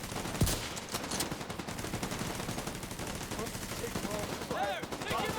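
Gunfire in a video game: rapid, continuous bursts of automatic shots with a sharp crack near the start, sustained under chatter and game effects.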